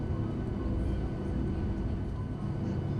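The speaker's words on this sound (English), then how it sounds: "And here we go with our takeoff on runway 24 left." A Delta Airlines 737-900ER takes off from runway 24 left at LAX, heard from inside the main cabin as a loud, steady low engine roar and rumble that continues without a break.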